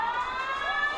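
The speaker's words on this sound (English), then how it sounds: "Siren will sound, or siren has sounded" A loud, sustained end-of-game siren at a women's under-18 rugby league match wails with a steady rising and falling pitch, sounding alone and continuous.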